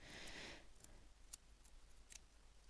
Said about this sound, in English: I'm going to do is snip at it with my scissors